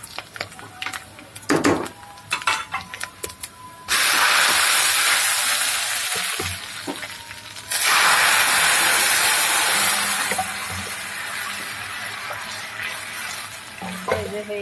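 Panch phoron spices hit hot oil with onion and garlic for tempering dal, giving loud steady sizzling in two long bursts, then a quieter fry with stirring clatter.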